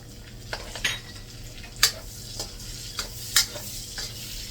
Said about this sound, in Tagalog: pag ganyan ng medyo pula na yung bawang, lagyan na natin yung sibuyas.